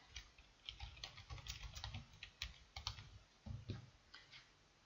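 Faint typing on a computer keyboard while entering text into a table cell, a quiet, irregular run of soft key clicks lasting a few seconds.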